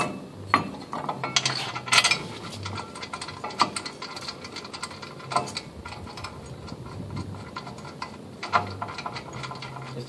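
A 17 mm wrench ratchets bolts tight on a Toyota Tacoma brake assembly during a pad and rotor job, giving faint, close clicking in irregular runs with scattered metallic taps and no speech.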